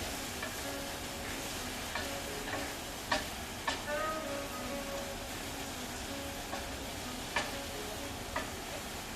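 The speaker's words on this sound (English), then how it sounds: "we're going to stir it around, let the meatballs get glazed in this nice soy" Meatballs stirred in a pan and glazed in soy sauce, a steady close sizzle broken by scattered sharp taps and scrapes of a utensil against the pan.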